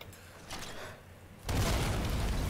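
Explosions destroy anti-ship and anti-aircraft guns in a shooter video game: a short muffled rumble, then a sudden, loud, sustained booming blast with a heavy low rumble.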